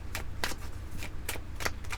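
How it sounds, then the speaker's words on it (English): Tarot cards shuffle in quick, crisp riffles, five or six distinct bursts of papery flicking close up, with no talking over them. "No, I shuffled everything."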